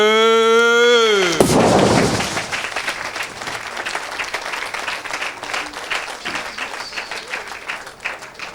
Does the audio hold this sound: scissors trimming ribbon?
no